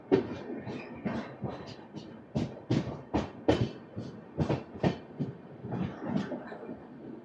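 The Visakhapatnam–Nanded superfast express runs on after a halt at Kazipet Junction. Wheels thump over rail joints in a steady rhythmic clatter heard from inside the coach, with a low rumble between the beats.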